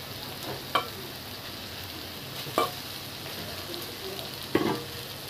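Onions sizzle steadily in a pan while previously fried eggs are stirred in, with three distinct scraping stirs spaced a couple of seconds apart over a soft, constant frying hiss.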